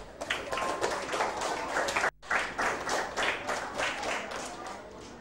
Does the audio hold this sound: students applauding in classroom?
yes